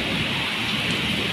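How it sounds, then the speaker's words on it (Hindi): Very heavy rain pours down during a violent storm in Dharamshala, Himachal Pradesh, with thunder rumbling in the sky. A dense, loud, continuous hiss of downpour fills the whole clip and no one speaks. "ये देखो आसमान से आवाज़ सुनाई दे रहा है ना, ये देखो बहुत भयंकर बारिश हो रहा है, बहुत भयंकर।"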